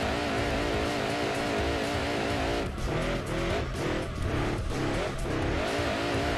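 Car wheels spinning in reverse in the racing video game Gran Turismo 2, a steady engine drone with repeated tire squeals and skidding bursts in the second half.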